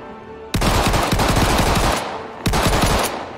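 Rapid loud bursts of gunfire from the S38 ballistic pistol in the Star Citizen video game: one long rattling volley, a brief gap, then a second shorter volley, heard alone.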